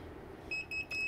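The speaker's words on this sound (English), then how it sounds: "the alarm's off because, well, the humidity is too low inside the tent" An Inkbird humidity controller sounds its alarm inside a grow tent when humidity runs too low: short, piercing electronic beeps in quick succession, clear above a quiet room.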